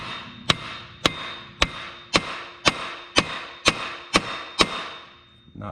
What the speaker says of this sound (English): we're just going to tap it with a hammer